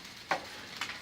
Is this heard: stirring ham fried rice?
yes